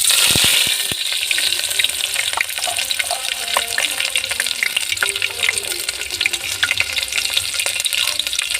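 Sliced onion pieces and curry leaves fry in oil with a dense, continuous sizzle and crackle, punctuated by stirring scrapes, with a brief louder burst at the start.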